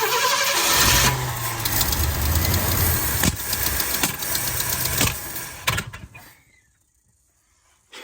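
A Ford F250 Ranger Camper Special engine cranks and runs roughly with throttle applied, a steady mechanical churn lasting several seconds before cutting off into near silence, then a brief return at the very end.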